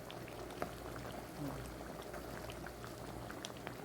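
Creamy chicken with spinach and mushroom bubbles gently in a pan, a soft steady simmer with faint popping and crackle, a low hum underneath and no talk over it.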